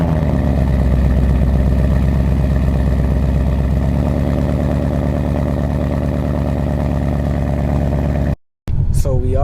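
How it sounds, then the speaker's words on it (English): A Ford Mustang engine idles after a cold start, a steady, loud, close rumble that runs without a break for about eight seconds, then cuts off abruptly, followed by a short burst of other noise. "Let me get y'all with this cold start"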